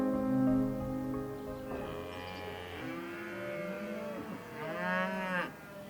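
Desi cows, indigenous Indian cattle on an organic farm in Noida, moo in several long, deep calls one after another, the last rising higher, fairly close and clear with no talk.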